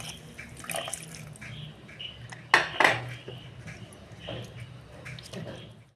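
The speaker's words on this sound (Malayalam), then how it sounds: "എന്നിട്ട് നമുക്ക് ഈ രണ്ടാം പാല് ഇതിലേക്ക് ഒഴിച്ചു കൊടുക്കാം." Coconut second milk is poured into a pan holding banana for payasam: quiet trickling and dripping, with a couple of sharp clinks of a metal vessel against the pan in the middle, close and fairly faint.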